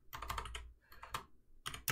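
Rapid typing on a computer keyboard, heard up close and alone as quick bursts of clicky keystrokes broken by short pauses.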